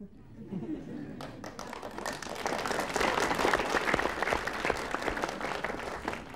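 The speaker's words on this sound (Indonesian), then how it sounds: "Terima kasih atas tepuk tangannya." Audience applause at a student comedy competition, starting sparse and quiet with a little talk, then swelling into dense, loud clapping that holds to the end.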